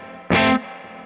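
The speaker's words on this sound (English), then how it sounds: "that's like the right amount of reverb for my thing" An electric guitar played through an amp with reverb strikes one loud, distorted chord that cuts off quickly and leaves a soft, lingering reverberant tail, with no voices.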